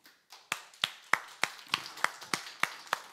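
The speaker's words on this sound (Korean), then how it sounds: "여러분이 박수를 쳐주시니 제 마음도 기쁩니다" Quiet hand claps from a church congregation at a Tuesday healing service fall in a steady, even rhythm, about three per second, sharp and distinct.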